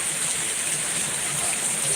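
Heavy rain pours down in a dense, steady roar of broadband hiss, continuous and even throughout, with no distinct drops or voices.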